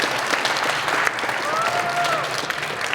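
An audience claps for each other at a CANstruction Midland 2020 event, dense, sustained applause for several seconds with a faint tonal sound briefly riding over it.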